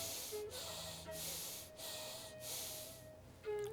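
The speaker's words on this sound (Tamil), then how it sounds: "முதல்ல ஒரு 3 முறை மூச்சை உள்ளெழுத்து மூச்சு வெளியே விடுங்க." Slow deep breaths from a yoga breathing exercise, four long hissing exhales in an even rhythm, close to the microphone and soft, with a brief voiced sound at the end.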